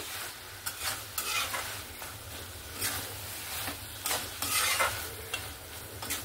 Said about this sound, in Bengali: দিয়ে আবারও ভালো করে মিক্স করে নেব